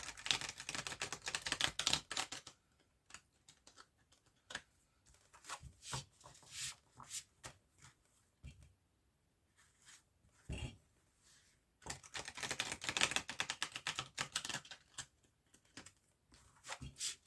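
Tarot cards are shuffled in close, crisp bursts of rapid riffling and flicking, with quieter pauses and scattered taps between two louder stretches of shuffling.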